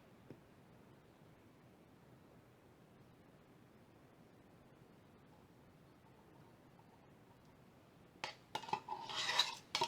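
A tool scraping the inner walls of a container as liquid silicone is poured for a plaster wall mould, heard as brief, close scratchy clatters near the end after a long near-silent stretch.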